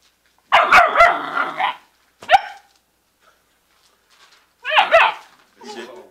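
A dog gives a few loud, close barks in short bursts separated by pauses, the last ones lower and trailing off, with a person speaking briefly in between.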